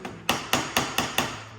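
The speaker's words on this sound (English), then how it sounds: "you can just knock it with your screwdriver" A screwdriver knocks against a steering head bearing part on a 2018 BMW S1000RR motorcycle, five sharp metallic taps in a steady rhythm, close and loud with short ringing decay.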